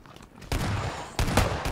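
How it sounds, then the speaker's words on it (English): Suppressed gunfire in PLAYERUNKNOWN'S BATTLEGROUNDS, on rainy Erangel, comes as two quick bursts of muffled, clipped shots over a quiet, hissing background, with no speech. "It's not like a freaking gunshot, but yeah, but you can hear the chup chup chup."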